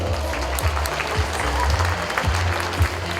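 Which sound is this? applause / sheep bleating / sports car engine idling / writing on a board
applause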